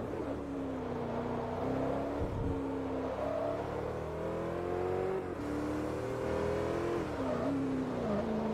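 A Bugatti Veyron engine in the racing game Forza Motorsport 3 hums and climbs through the revs, with rising whine pitches and brief dips at gear changes, loud and continuous with no talking.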